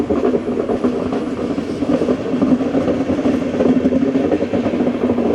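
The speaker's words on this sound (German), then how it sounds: "Genießen wir den Sound der alten" Old railway carriages roll along the track in a steady, loud rumble with rhythmic clickety-clack over the rail joints, heard from inside the moving train without any talk.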